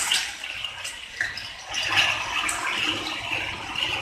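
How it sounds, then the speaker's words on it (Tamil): Water poured into hot melted sugar caramel sizzles and splashes, a steady bubbling hiss that rises and churns throughout. "இப்போ நம்ம இதுல தண்ணி ஊற்றிடலாம்."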